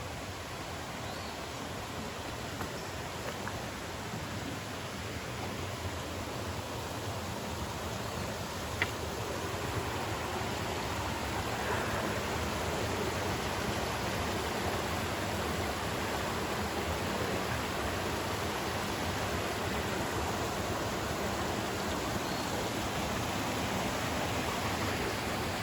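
Water pours steadily at Fall Creek Sink waterfall in South Cumberland State Park, a constant broadband rushing that holds at an even level throughout, with no voices.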